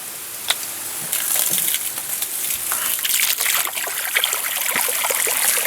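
Water runs and splashes steadily from an outdoor faucet at a remote cabin in a continuous stream, with occasional sharper drips and spatters on top.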